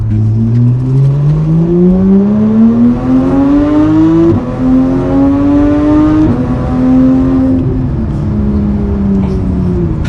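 A loud, high-revving Porsche 911 GT3 (991) engine climbs steadily in pitch, briefly drops at a gear change, then pulls up again before easing off.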